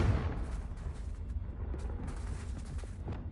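Confringo fire spell explosion in Hogwarts Legacy, a loud deep blast at the start that rolls into a long rumbling tail with faint crackles.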